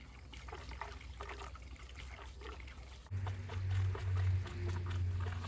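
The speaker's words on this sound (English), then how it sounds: "we're gonna stick some gas in anyway and find out" Gasoline trickles into a car's fuel tank that is held down with a ratchet strap. The pour is soft and close at first and grows fuller and louder partway through.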